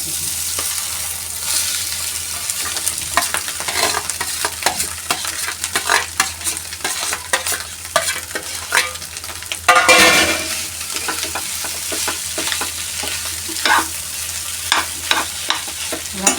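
Spices stirred in hot oil in a pan with cumin while making potato vada filling, close scraping strokes of a spoon repeating irregularly over a steady sizzle, with one louder clatter midway.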